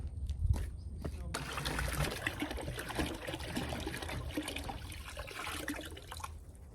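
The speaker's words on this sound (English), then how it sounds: "So let's pour the water in." Water poured into a container to brew worm casting tea in an Arizona zone 9 garden, a steady splashing trickle running for several seconds at moderate level.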